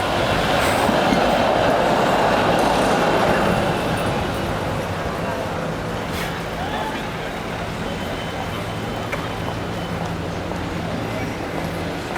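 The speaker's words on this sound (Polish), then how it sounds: "Tu coś dla koneserów tramwajów, to dla Ciebie Piotrek." A tram rolls past nearby on an Amsterdam street with a steady rumbling roar and faint rail clatter, loudest at first and slowly fading.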